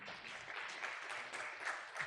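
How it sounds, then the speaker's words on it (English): A conference audience applauds the MC at a memorial lecture. The applause is steady and diffuse, fairly faint and distant, and lasts about two seconds without any speech over it. "A round of applause for Beatrice."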